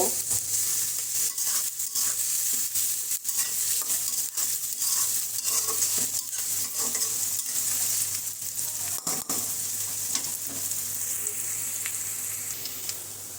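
Onions frying in oil in a pan give a steady, close, hissing sizzle throughout, broken now and then by stirring scrapes. There is no talking.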